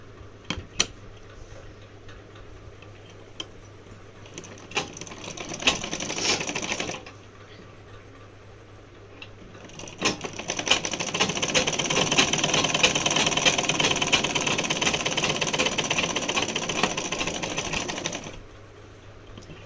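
Domestic sewing machine stitching a blouse sleeve joined at goat piping, running in two long bursts with a pause between, steady and close with a mechanical whirr and rapid needle rhythm.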